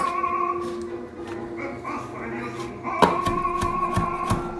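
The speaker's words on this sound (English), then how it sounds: "Just give it a quick chop." A knife quickly chopping fresh basil on a board, with a short run of crisp, close cuts near the end over tonal opera music playing in the background.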